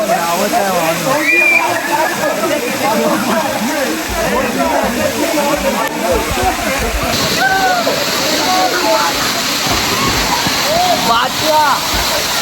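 Waterfall in Khopoli during the monsoon, a loud, steady roar of falling water that continues throughout, with faint voices mixed in beneath it.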